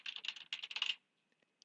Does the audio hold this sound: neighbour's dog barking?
no